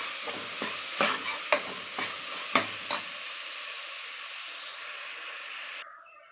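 Chopped tomatoes and vegetables sauté for vegetable pulao, a steady frying sizzle broken by several spoon stirs and scrapes early on, then a continuous hiss that cuts off at the end.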